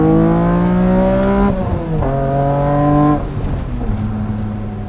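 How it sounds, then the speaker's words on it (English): An S54-powered 1993 BMW E30 Touring revs its high-revving, naturally aspirated engine while driving, climbing through the gears in rising pitch sweeps broken by two shifts, loud and close with no talk. "the added thrill of a high-revving, naturally aspirated engine"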